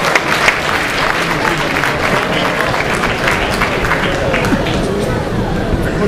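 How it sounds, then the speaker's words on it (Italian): A crowd applauds steadily, dense clapping continuing throughout with some voices mixed in. "un grande applauso"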